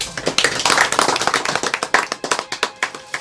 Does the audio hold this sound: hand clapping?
yes